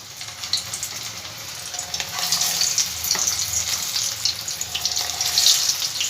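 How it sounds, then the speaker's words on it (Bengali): Vegetarian eggplant koftas fry in hot white oil in a wok, a dense, bright sizzle that swells louder after the first couple of seconds and keeps hissing steadily with no voices. "এবার আমি একে একে কোপ্তাগুলো সব ভেজে নেব।"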